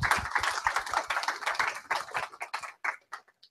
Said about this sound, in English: And a round of applause for Rory.